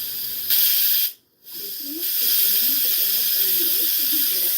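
Loud steam hiss being vented, a steady broadband rush that cuts out briefly and resumes, with a person's voice murmuring underneath.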